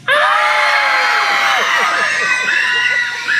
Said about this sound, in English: Everybody screams.